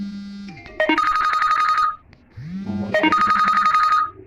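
A phone rings with an incoming call, loud and close, sounding two bursts of a bright electronic ringtone with a short pause between them, alone without talking.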